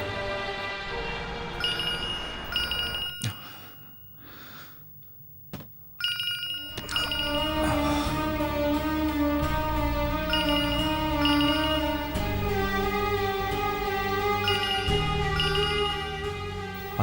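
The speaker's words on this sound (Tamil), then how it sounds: "கிருஷ்ணன் எதுக்கு எனக்கு ஃபோன் பண்றான்?" A mobile phone rings with an incoming call in a Tamil TV drama, its melodic ringtone looping loud and clear, pausing briefly before resuming and continuing alone.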